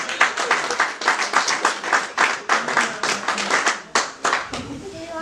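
A church congregation clapping together in a rapid, uneven rhythm, loud and close, dense overlapping hand claps that thin out toward the end as voices rise underneath.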